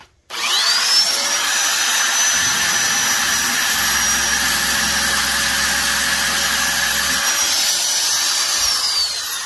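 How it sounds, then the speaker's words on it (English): A Dynafile belt sander grinds against metal on a Harbor Freight ring roller, a loud, high whining rasp that runs continuously for several seconds, with a lower rumbling tone added through the middle as the roller is cranked. "So this Dynafile moves in this direction so I'm going to use that to my advantage while I'm cranking this."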